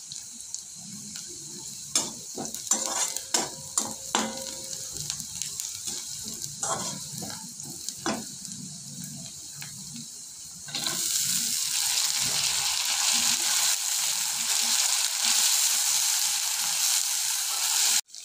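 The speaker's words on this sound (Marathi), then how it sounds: "कांदा भाजून झाला का त्याच्यात आपण डाळ टाकून घ्यायची आहे।" Lentils tossed with roasted onion fry in a pan, first with scattered stirring scrapes and soft crackles, then a sudden, loud, steady sizzle that holds close and unbroken for several seconds.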